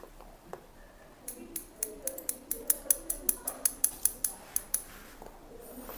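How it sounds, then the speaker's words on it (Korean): Scissors snip through a man's fringe hair in a fast run of crisp, close clicks, about a dozen sharp cuts in steady rhythm against a quiet room. "자, 조금씩 더 잘라 나가 보도록 할게요."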